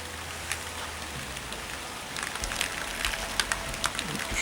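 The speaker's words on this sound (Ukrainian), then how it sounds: "Знову пішов дощ" Steady rain patters on a surface close by, a soft continuous hiss with scattered louder drips toward the end; no voices.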